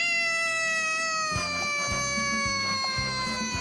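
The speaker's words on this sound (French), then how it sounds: "les chats sont de très bons imitateurs. La preuve en est avec cette parfaite imitation du loup" A cat gives a long, sustained, wavering howl like a wolf, loud and close, while rhythmic low pulsing sounds join partway through.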